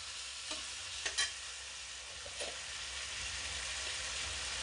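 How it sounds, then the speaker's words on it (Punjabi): Tomatoes cook in a pan for a gobi kofta curry as dry spices are stirred in, giving a steady soft sizzle with a few light scrapes of the spoon near the start, close and alone. "ਆਪਣੇ ਟਮਾਟਰਾਂ ਨੂੰ 2-3 ਮਿੰਟ ਪੱਕਦਿਆਂ ਨੂੰ ਹੁਣ ਆਪਾਂ ਇਹਦੇ ਵਿੱਚ ਸੁੱਕੇ ਮਸਾਲੇ ਐਡ ਕਰ ਦਿੰਨੇ ਆ"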